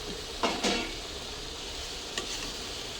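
A utensil scrapes and stirs mushroom rice in a cooking pot, giving a few distinct clinks and scrapes over a soft, steady sizzling background with no speech.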